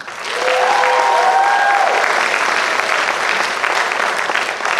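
Sustained applause from a sizable crowd at a school instrumental concert swells up and holds steady, loud and dense, with a brief tone sounding near the start.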